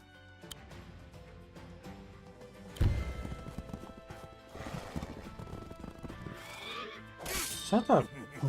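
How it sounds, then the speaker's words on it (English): Horse hooves clip-clop and a horse neighs in the video game Wargroove, with the whinny rising loud near the end over game sounds and someone talking throughout. "Is that the Minecraft horse noise?"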